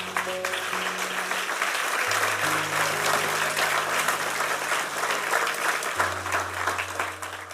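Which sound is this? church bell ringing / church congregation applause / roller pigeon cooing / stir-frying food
church congregation applause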